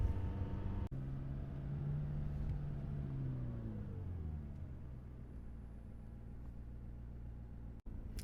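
A McLaren sports car drives through -10°C winter cold, its engine a low steady rumble with a revving note that swells and then fades, heard without talk.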